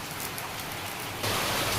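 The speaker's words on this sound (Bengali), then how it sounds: "বাইরে বৃষ্টির অনেক শব্দ।" Heavy rain pours outside as a dense, steady wash of drops on a surface. It swells suddenly louder partway through.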